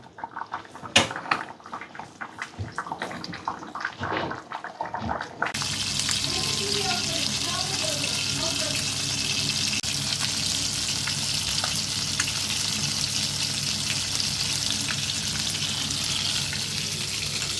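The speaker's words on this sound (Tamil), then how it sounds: "மீன் வந்து பொரிச்சுக்கிட்டு இருக்கிறாங்க" Fish frying in a pan for a village-style clay-pot fish curry flavoured with kudampuli, a steady close hiss and sizzle that runs continuously after some earlier clattering and handling noises.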